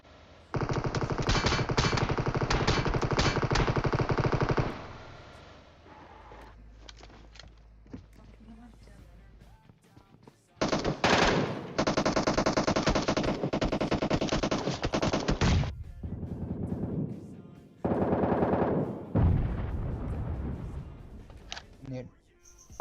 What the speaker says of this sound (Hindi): बंदा गोली चला रहा है